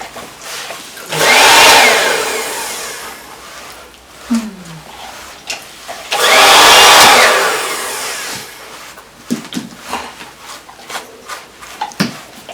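A blow dryer runs near a litter of puppies, roaring loudly in two long bursts separated by a pause, with small yelps and handling noises scattered in between and afterwards.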